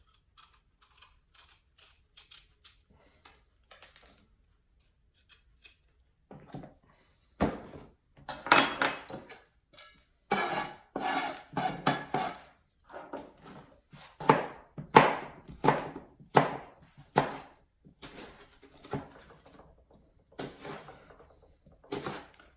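A knife cutting through watermelon flesh for jam, catching on the seeds, with quiet early moments then a run of rhythmic, close chopping strikes against a board growing louder and more regular.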